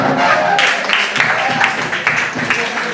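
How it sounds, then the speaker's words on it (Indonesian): Students clapping hands in a classroom, a loud burst of brisk, slightly uneven applause that continues steadily for a few seconds with some voices mixed in. "Tepuk tangan"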